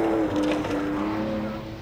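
A Porsche 911 rally car races along a stage at the 1998 RSAC Scottish National Rally, its engine note loud and close with a sustained rising whine as it passes, then fading slightly.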